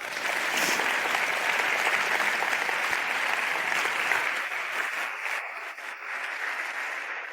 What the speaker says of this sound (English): I'm really grateful for all the applause you're giving me